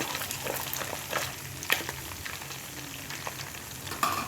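Curry leaves frying in hot homemade ghee while being stirred, a soft steady sizzle with occasional sharper pops and scraping stirs, fairly quiet and close.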